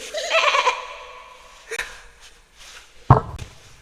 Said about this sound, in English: Look, and this is a goat.